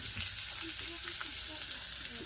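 Chopped onion sizzling steadily in hot oil for a home-style biryani, a continuous close broadband frying hiss with faint stirring, no talk.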